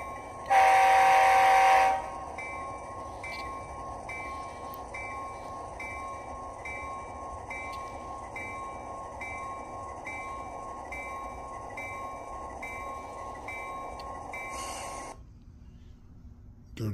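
A small HO scale Athearn Genesis GE AC44CW model locomotive hums steadily along its track with a faint repeating clicking over the rails, preceded by a brief loud whistle-like tone at the start.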